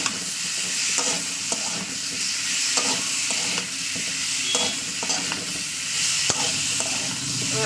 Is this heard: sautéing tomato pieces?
yes